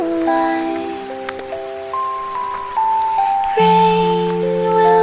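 Gentle rain patters softly and steadily beneath a calm, sustained children's lullaby melody, the soft hiss running through the whole passage.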